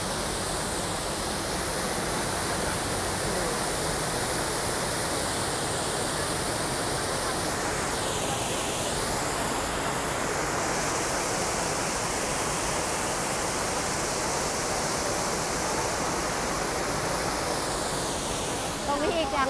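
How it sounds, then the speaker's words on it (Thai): Waterfall at Ko Yuan in Nakhon Sawan, a steady, full broadband roar of falling water heard up close, constant and unbroken throughout with no voices. "เดินบันไดลงมาตรงนี้ก็จะเจอน้ำตกค่ะ"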